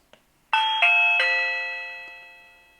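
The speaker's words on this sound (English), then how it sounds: "And that is the sound of the doorbell." Reolink WiFi video doorbell chime rings alone, three close bright tones struck in quick succession, then a long ringing decay that fades out over a couple of seconds, with a soft faint tick before it begins.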